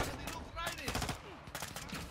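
Gunfire rattles through a prison-break mission in Call of Duty: Modern Warfare 2 (2022), with loud bursts of rapid shots and a few sharp single reports, mixed with voices from the game.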